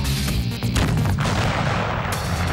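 Five kilos of explosive detonated in an uncovered test blast, a loud, sustained roaring boom with rumbling debris and rolling reverberation filling the whole clip.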